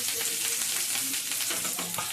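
Dried red chillies and curry leaves sizzle in two tablespoons of hot oil, a tempering for okra fry. The frying hiss is loud, dense and continuous, with faint crackles throughout.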